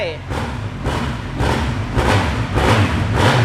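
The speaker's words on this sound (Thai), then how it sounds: "ยังคงเป็นท่อเดิมมาฟังเสียงท่อคันนี้กันครับ" A 2019 Honda CB1100RS motorcycle on its stock exhaust revs repeatedly, a close, loud engine giving five or six rhythmic throttle blips that rise and fall over a steady idle rumble.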